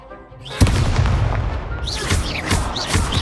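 Expulso spell explosions in the Hogwarts Legacy video game: a loud, close blast bursts in and rolls into a dense, sustained rumble of crackling magical impacts, with faint whooshing effects layered over the top.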